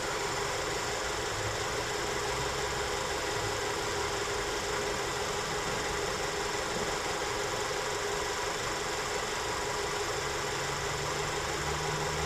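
A 2001 Honda Odyssey engine idles steadily up close, a continuous even hum with a faint mechanical knock running throughout, no talking over it.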